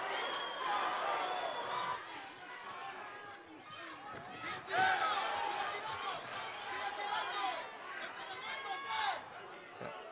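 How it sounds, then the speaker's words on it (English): Crowd at a Golden Boy boxing fight night making noise for a fighter, a steady roar of cheering and chatter with swelling peaks, loud and continuous throughout. "Crowd making noise for him."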